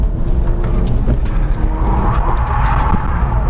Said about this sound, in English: I went to my first drift event in the E46.